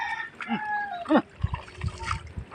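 Chickens make short rising calls and clucks close by, with a few bright squawks over soft low thumps and scratching, several birds overlapping briefly.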